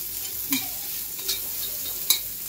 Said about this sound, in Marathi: कांदे थोडे लालसर भाजायचे, त्याच्यात थोडे तेल टाकायचे, त्यामुळे कांदा लवकर भाजतो